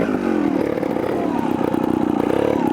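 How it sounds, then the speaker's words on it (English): A Vertigo trial motorcycle engine runs just after starting on the first kick, a loud, close, steady rapid-firing idle with a slight rise in revs. "A Vertigo that starts up first kick, eh?"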